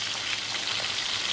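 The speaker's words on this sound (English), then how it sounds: "You always have to make sure you stay away from the oil when it's popping." Marlin and tuna fish frying in hot popping oil at a seaside spot in Jamaica, a steady dense sizzle with small crackles throughout.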